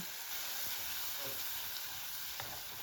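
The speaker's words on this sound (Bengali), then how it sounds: "ভালো করে ভেজে নেব মশলাটা" Spice paste with cumin seeds, dried chilli, bay leaf and turmeric frying in oil in a wok, a steady close sizzle and hiss with light stirring scrapes.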